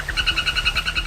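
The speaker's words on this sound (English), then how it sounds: "There are about 100 species of poisonous frogs in the Amazon forest alone" Frogs in the Amazon forest calling in a fast pulsing chorus of rhythmic chirping croaks, close and loud, repeating evenly throughout.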